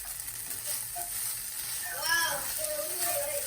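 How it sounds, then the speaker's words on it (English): Arborio rice sautéing in two tablespoons of butter in a pan, a soft steady sizzle with faint stirring scrapes, under occasional brief clinks near the end. "So here we're sauteing the rice, the arborio rice, in 2 tablespoons of butter."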